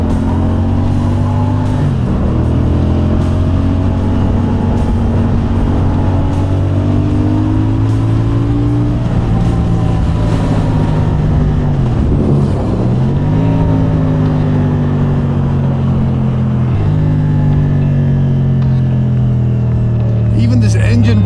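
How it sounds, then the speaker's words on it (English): A CFMoto CLC 450 bobber motorcycle engine rumbles loudly and steadily while riding, its pitch falling and rising as it engine-brakes and pulls again, with wind noise and a voice talking over it. "Even this engine brake sound is just super lean."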